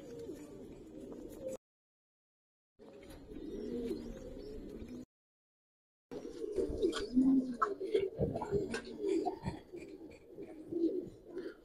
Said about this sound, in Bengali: ডাকগলা কবুতর দেখেন ভাই